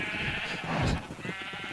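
A sheep bleats once on a farm in the video game SevTech Ages, a short, moderately loud bleat in the middle of a constant background hum, with no speech.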